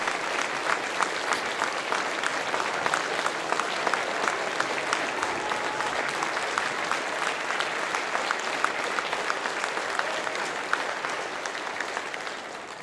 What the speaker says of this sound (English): Yes, a big round of applause for Evie.